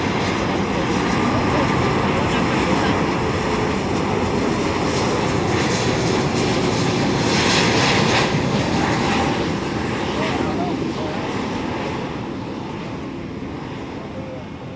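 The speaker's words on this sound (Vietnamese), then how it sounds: "chiếc Airbus A330-300 của Thái Airways đang bước vào hạ cánh" A Thai Airways Airbus A330-300 landing on runway 25R at Tan Son Nhat airport, a loud, steady broadband engine roar held close for many seconds before slowly fading as the aircraft passes.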